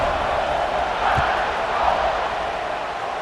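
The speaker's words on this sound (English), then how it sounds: "this crowd is feeling themselves after that last drive" Stadium crowd in EA Sports College Football 26 roars steadily during a kickoff after a touchdown drive, a broad, sustained wash of cheering at even loudness throughout.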